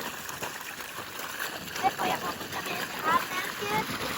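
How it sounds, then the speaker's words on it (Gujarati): Water gushing up from a natural spring outdoors, a steady rushing splash with a few louder bursts, close by, with people talking over it. "इधर पानी आता है इसको बोलते हैं भभूका"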